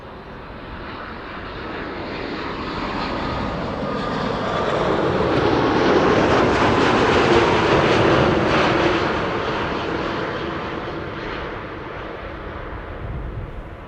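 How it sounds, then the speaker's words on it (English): An Air Canada Boeing 787-8 Dreamliner, about ten years old, lands with a broad jet roar. The roar swells toward the middle as the aircraft passes close, then fades away. No voices are heard. "It's a 787-8 Dreamliner."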